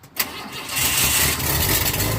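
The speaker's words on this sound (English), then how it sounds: "Come on, baby, start." A truck engine cranks briefly and catches, then settles into a loud, steady running rumble close by, with no talk.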